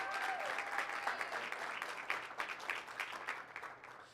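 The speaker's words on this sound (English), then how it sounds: "Once again, everyone, a big round of applause for Bree." An audience at a high school signing event for student athlete Bree Peña claps warmly, a crowd-wide round of applause with distinct individual claps. It sounds fairly distant and soft, then eases slightly toward the end.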